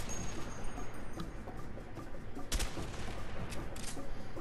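Enemy gunfire from AK rifles in the co-op game A Way Out, a dense, continuous barrage of shots with one sharper burst in the middle, loud and close throughout.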